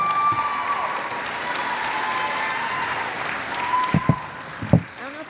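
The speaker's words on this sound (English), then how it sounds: "Please give a round of applause in welcoming LaToya Edwards." An audience at a Title IX 50th anniversary celebration applauds as a former college basketball player and Miss Massachusetts is welcomed, steady clapping with a few cheers and whoops rising near the end.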